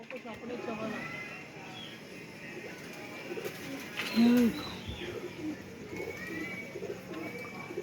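Pigeons on a rooftop give soft, intermittent cooing calls at moderate distance, with one louder coo near the middle, while people talk nearby amid light outdoor background noise.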